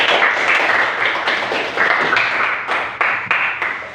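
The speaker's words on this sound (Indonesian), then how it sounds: "kasih tepuk tangan untuk teman" Students in a classroom clap for their classmates, a fairly loud, close patter of hands that gradually thins and trails off into a few scattered claps near the end.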